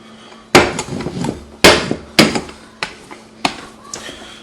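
A meat mallet pounds a piece of food flat on a floured surface, landing several loud, heavy thuds at irregular intervals up close that weaken as it goes, with no talk.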